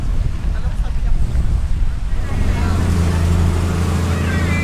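A bamboo outrigger boat sails along the Boracay coastline, its engine giving a steady low drone under heavy wind buffeting on the microphone, with a voice briefly audible.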